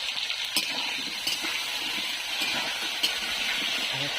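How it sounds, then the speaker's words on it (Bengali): Potato pieces sizzle in hot oil in a pan while being fried for a vegetarian jackfruit and paneer curry: a continuous crackling hiss with occasional sharper pops and faint stirring clinks, heard up close. "পনির রান্না করার জন্য আলুটাকে ভেজে নিচ্ছি"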